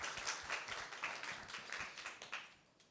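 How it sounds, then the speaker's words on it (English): Audience applause at a summit session on digital public infrastructure safeguards, a steady wash of many hands clapping that holds throughout, fairly quiet and distant, tapering slightly toward the end. "Can you give a round of applause,"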